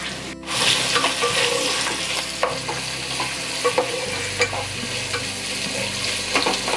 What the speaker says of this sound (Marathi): कांदा परतून घेते.